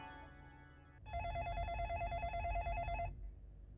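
A telephone rings with a warbling electronic trill for about two seconds after a brief lead-in, then stops; no one speaks.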